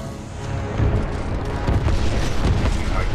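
A Titanfall 2 titan weapon firing in the campaign, heavy booming blasts rolling one after another over a constant rumbling battle din, loud and close.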